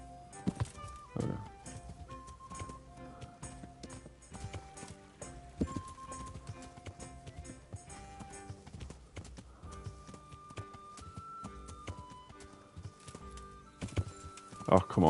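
A horse's hooves clip-clop over ground in the medieval game Kingdom Come: Deliverance, steady rhythmic steps under game music with tonal notes, and a faint neigh or bird calls now and then.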